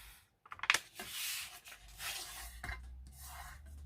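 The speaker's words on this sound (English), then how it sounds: "just going to use my knife just to cut down" A craft knife slicing down through folded paper, a few close, sharp scratching and rasping strokes.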